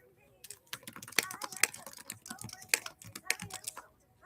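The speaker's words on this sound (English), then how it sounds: "Oh, I'm typing." Someone types fast on a computer keyboard nearby, with a dense run of sharp, irregular clicks that continues through the whole clip.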